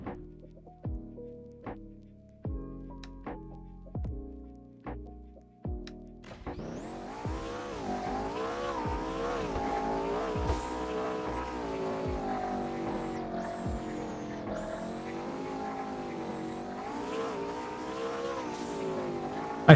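Engine revving and squealing tires of a car in the video game Car Dealership Tycoon, starting with a few short throttle blips, then a sustained, rising and falling drive with gear shifts.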